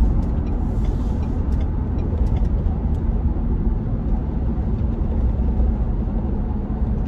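A 2021 Ford Bronco two-door Black Diamond accelerates up an on-ramp onto the highway, its engine and road noise forming a loud, steady broadband roar that holds evenly from start to finish.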